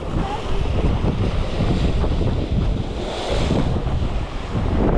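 Strong wind roars steadily over the open sea aboard a fishing boat off Corsica, with loud buffeting on the microphone and waves washing beneath, filling the whole stretch without pause.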